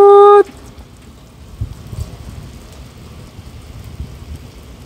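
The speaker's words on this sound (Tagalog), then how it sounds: "Kita ko lang na umuulan din kami kahit papaano." Steady rain patters across the whole stretch in Qatar, with low rumbling thunder underneath and a few louder gusts, after a brief loud tone at the very start.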